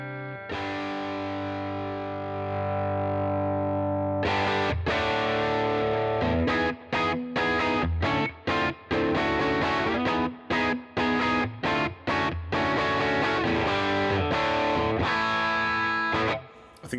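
An electric guitar runs through an AmpliTube 5 model of a '57 Fender Custom Deluxe amp, giving a loud, driven, distorted tone. A long ringing chord is followed by a busy rhythmic riff of choppy, muted strums and sustained notes.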